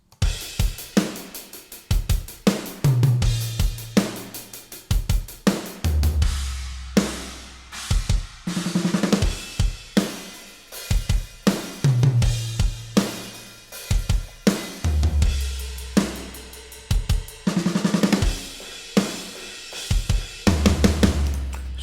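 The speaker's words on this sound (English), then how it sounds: "you will easily make it sound huge, adding some kick sample and especially some snare room sample" Invasion library drums, layered with extra kick samples and a roomy snare sample, play a full, driving rock pattern with crashing cymbals and big, booming hits, heard alone and close.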